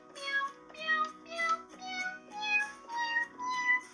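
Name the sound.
Meowsit toy keyboard playing a human imitating cat meows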